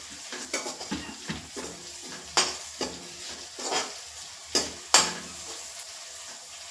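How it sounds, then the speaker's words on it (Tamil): Green chillies sizzle in hot oil while a utensil stirs and scrapes the pan in repeated sharp strokes, close up and with no talk. "மிளகாய் நல்லா இப்போ வந்துருச்சு, எண்ணெயிலே நல்லா வதங்கிடுச்சு."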